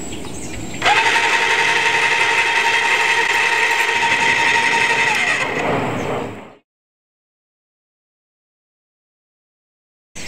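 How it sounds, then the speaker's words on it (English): A Graco Nova 390 airless paint sprayer switched on, producing a loud steady mechanical whine and hum for about six seconds before abruptly cutting off into silence. "I'm gonna go ahead and turn on the machine"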